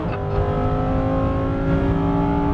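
A sports car engine, one of the exotics such as a GT3, McLaren 570S, Ferrari 458 or 488, or Lamborghini Huracan Performante, drones steadily on a race track as it accelerates. The engine is loud and close, with no talk over it.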